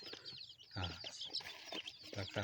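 A junglefowl crossbred chicken calls in short, repeated bird-like clucks and chirps at moderate distance, in a quiet outdoor setting with some faint background sound.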